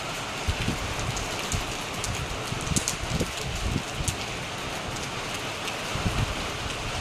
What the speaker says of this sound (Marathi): हे टपोरे थेंब, हे केवढे मोठे मोठे थेंब पडतात.